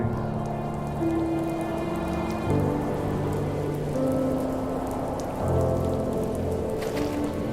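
Rain in the story video game The First Tree falls steadily on surfaces in a dense patter under sustained, layered musical tones, with no talking.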